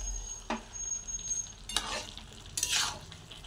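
Prawns with their heads being stirred and mixed in a cooking pan, with three scraping, sizzling strokes spaced about a second apart, close and fairly quiet, with no talking.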